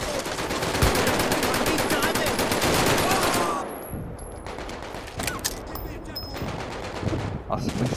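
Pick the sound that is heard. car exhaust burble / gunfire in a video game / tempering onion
gunfire in a video game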